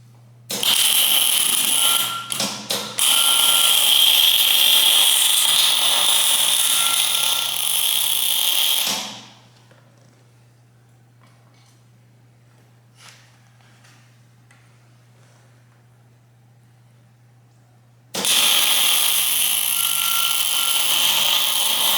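A power drill bores holes in an Eaton axle part during a Peterbilt 359 truck restoration, a loud steady whine that runs for several seconds, stops for a long quiet gap with a faint knock, then starts again.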